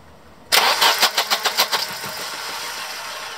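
A Volvo 240 engine with a no-start ignition fault cranks with a quick series of pulsing turns, then settles into a steady running hum, heard alone and fairly close.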